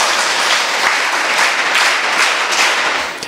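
Steady, dense applause from an audience at a school event in Hebri, filling the whole stretch at even loudness with no talk over it and only a slight fade at the very end.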